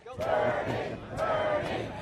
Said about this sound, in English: Lindsey Graham, fighting to be heard over the crowd